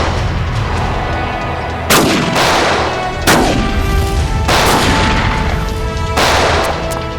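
Gunfire in a TV crime drama shootout, several loud booming shots fired a second or so apart, each with a long echoing tail, over constant background noise and with no speech.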